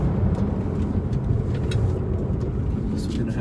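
A Tesla Model 3 Performance driving a canyon road in track mode produces a steady electric motor whine over loud road and wind roar, with a person talking throughout.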